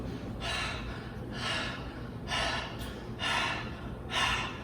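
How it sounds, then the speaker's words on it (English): Forceful open-mouth breathing for a chakra meditation, heard as five loud, breathy rasping exhalations at an even pace of about one per second, close to the mic, with no talking. "The breathing should be with mouth open, not with the nose."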